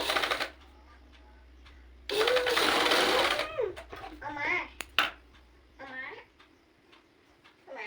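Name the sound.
sewing machine stitching pleats on a baby dress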